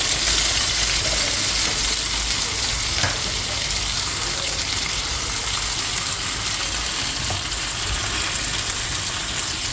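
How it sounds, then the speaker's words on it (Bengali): Large hilsa fish frying in a pan, giving a loud, dense and continuous sizzle close up, alone for the whole stretch. "এই বড় ইলিশ মাছগুলো না ভাজলে হয়, আমি একটু ভাজা নিই"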